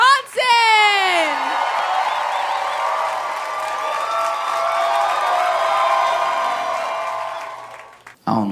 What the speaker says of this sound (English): Y'all start clapping right now. Give it up for Josh Johnson.